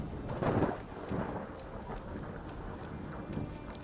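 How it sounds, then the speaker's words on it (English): Skyrim weather ambience of steady rain with low rumbling thunder, a continuous wash with soft swells of thunder that rise and fall in the background. "And there's some rain ambience too."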